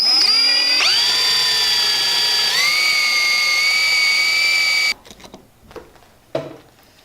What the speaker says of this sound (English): we've gone ahead and drilled out the hole